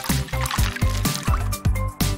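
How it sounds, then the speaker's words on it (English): A fruit lollipop on a stick, coated in melted gummy bears, gets a quick rinse in water. Short liquid splashes and sloshes repeat in a quick, steady rhythm, close and fairly loud. "Now add some fruit to a stick and give it a dip. And a quick rinse."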